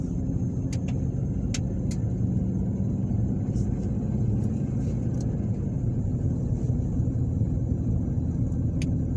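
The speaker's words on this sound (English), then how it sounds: "right now I'm driving down Hallie Drive" A car drives steadily down a residential street in Brundidge, Alabama, its low road rumble and tire noise continuous and close throughout, with faint scattered clicks above.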